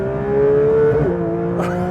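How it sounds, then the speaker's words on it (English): A loud Porsche 992 GT3 Touring engine hums steadily up close while passing another car, its pitch dipping as it shifts, then a brief roaring rev near the end. "Listen to the engine, by the way."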